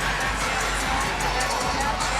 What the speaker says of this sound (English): the crowd certainly has their opinion here in College Park